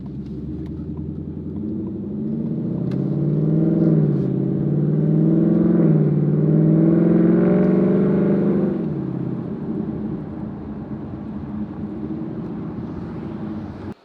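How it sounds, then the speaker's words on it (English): A supercharged car engine with a Roush exhaust and Borla X-pipe rumbles and revs up, a rising supercharger whine layered over the low roar, swelling for several seconds before settling back to idle. "You can definitely hear the supercharger whining a lot more as well."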